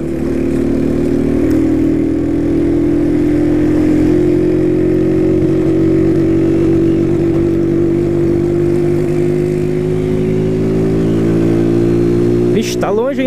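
Honda CG 125 Fan motorcycle engine humming steadily at low revs while riding a bumpy street, a continuous close drone with slight pitch drift and a brief rattle of the fairings near the end.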